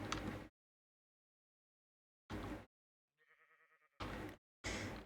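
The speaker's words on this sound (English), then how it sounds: "Because I can't keep the sheep." Minecraft sheep bleat in short, separate calls, four loud bursts with silent gaps between them, plus a faint tonal game blip in between; no talk is heard.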